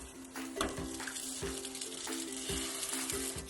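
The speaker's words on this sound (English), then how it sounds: "While the patties are cooking" Chickpea and broccoli fritter patties fry in a pan with a steady close sizzle, broken by several louder crackling bursts and faint utensil scrapes, with no talking.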